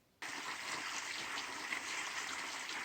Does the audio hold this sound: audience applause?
no